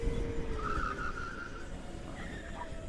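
Go-kart racing on an indoor track at Boss Pro Kart, with a continuous engine drone and a drawn-out tire skid squealing under heavy braking. The sound stays close and steady throughout, with no voices.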